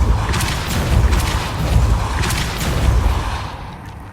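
Depulso spell cast in the video game Hogwarts Legacy, a loud continuous rumbling, booming blast with swelling whooshes lasting a few seconds before fading at the end.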